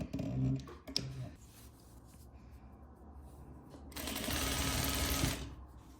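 A sewing machine stitches a row of corset cording, a quiet steady hum that swells into a louder continuous run of stitching toward the end, with softer handling noises before it.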